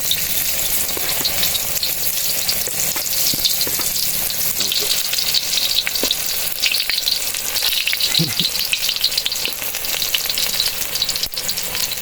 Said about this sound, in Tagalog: isa-isa na natin pipirituhin yan mga kabilas